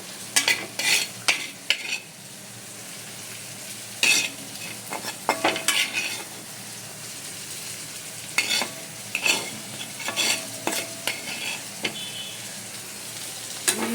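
Shrimp stir-fried in a pan give a steady sizzle broken by repeated sharp scrapes and clinks of a utensil against the metal, irregular bursts throughout, close and clear, with no one speaking.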